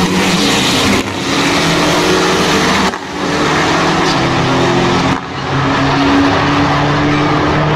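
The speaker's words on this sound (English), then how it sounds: "GLHs and Shelby Chargers are often drag raced." Dodge Shelby Charger and Omni GLH cars drag race, loud engines revving hard with tire squeal and roaring acceleration, broken by brief dips between gear changes.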